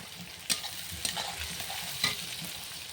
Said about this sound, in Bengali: পেঁয়াজটা আমার ভাজা ভাজাই প্রায় হয়ে গেছে